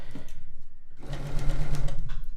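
A sewing machine stitching fabric for a quilt block, running in a quick steady rhythm of needle strokes, briefly slowing near the middle and then speeding up again, close and fairly loud with no talking.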